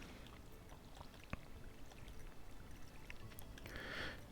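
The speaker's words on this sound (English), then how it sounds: "So now we have to water" Watering crops one spot at a time with a watering can in the Stardew Valley farming game: a soft trickling pour swells near the end over a quiet, steady background.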